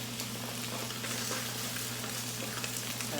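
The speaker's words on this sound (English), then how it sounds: "We're going to let those fry away." Chicken burgers fry in a pan with a steady, close sizzle and crackle that holds evenly throughout, accompanied by a low background hum and no talking.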